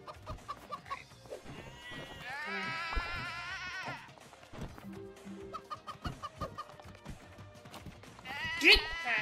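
Sheep in the video game Moving Out bleat a few times amid other cartoonish animal calls and game effects, with players talking and laughing over them.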